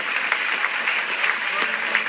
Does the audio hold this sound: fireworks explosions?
no